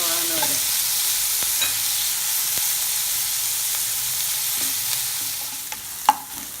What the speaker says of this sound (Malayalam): ഇനി ഞാനിവിടെ ചോപ്പ് ചെയ്ത് വെച്ചിരിക്കുന്ന ഉള്ളിയാണ് ഇടുന്നത്.